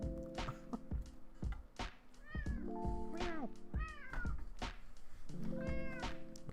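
A pet cat meows several times in drawn-out, rising-and-falling calls, fairly close and clear, with low background noise and a brief murmur of speech in between.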